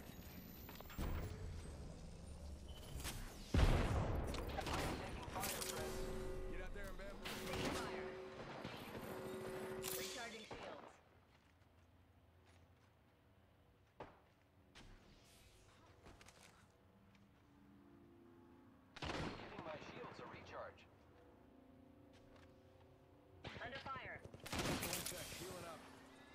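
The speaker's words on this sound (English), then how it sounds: "I am taking fire, friends." Video game gunfire in bursts of rapid shots and fusillades, loud at the start then fading into quieter stretches before fresh volleys return, with a voice speaking amid the shooting.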